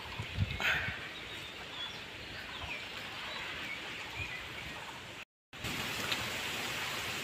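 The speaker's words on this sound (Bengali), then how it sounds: "পাট গাছগুলো তো একদম হাওয়ায় মানে যেন খেলছে" Wind sweeping through a field of jute plants under a heavily clouded sky makes a steady, broad rushing hiss, with a brief dropout partway through.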